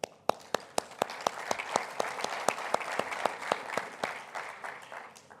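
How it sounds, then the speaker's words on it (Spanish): Audience applause at a railway logistics panel in Mexico, greeting the head of the rail transport regulatory agency: a few sharp opening claps swelling into steady, moderately close clapping that thins toward the end. "para quien pido un aplauso."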